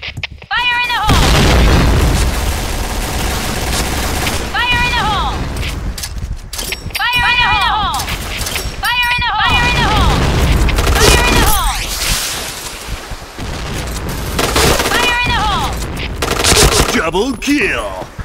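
Video game Point Blank combat: rapid bursts of gunfire and booming grenade blasts repeat throughout, dense and loud, with chirping electronic effect tones layered between the shots.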